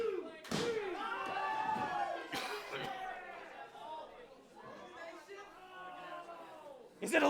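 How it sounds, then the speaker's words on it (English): A wrestler is slammed through a door during a three-way dance wrestling match, giving sharp crashing thuds over a loud, chattering crowd and excited commentary voices. "Drexyl sending Casaus through the door"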